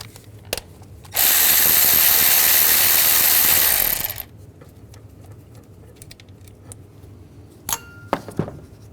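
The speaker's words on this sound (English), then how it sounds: "Take this bolt out right here. Use a 10mm socket." A ratchet with a 10mm socket works a bolt loose on a 2007-11 Honda CR-V engine: a loud, close three-second burst of rapid ratcheting, then scattered metallic clicks and clinks.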